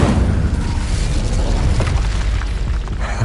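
Incendio fire spell blasting in Hogwarts Legacy, a loud, dense roaring burst of flame that rumbles on steadily for a few seconds without a break.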